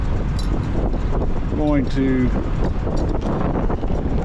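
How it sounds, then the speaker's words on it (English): Wind buffets an open-air roadside spot in Wyoming during an RV transport haul, a steady broadband rush and microphone rumble running throughout, with someone speaking briefly over it. "it's getting windy"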